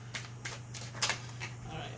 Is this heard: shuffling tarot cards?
yes